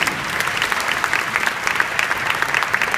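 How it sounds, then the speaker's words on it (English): An audience at a commencement ceremony claps for a United Way team, a brief, dense burst of steady applause at close range with no one speaking over it. "Let's give an applause to our United Way team."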